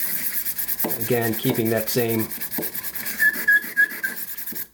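A whittling knife blade rubbed back and forth across a diamond sharpening stone, giving steady rasping strokes in a quick rhythm, close up, with someone speaking briefly over it.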